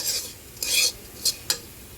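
Food being stirred and dry-roasted in a pan over a low gas flame, heard as a few short, scraping strokes against a quiet background.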